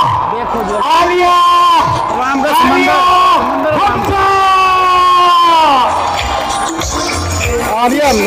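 A large rally crowd in Lahore greets a speaker with a loud, continuous roar of cheering, and shouted, chant-like voices rise above the noise throughout.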